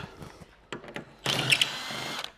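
A power drill fitted with a Torx 50 bit works on a Jeep Bestop TrekTop soft top: a few short clicks and taps, then a loud whirring burst of the drill running close by for about a second.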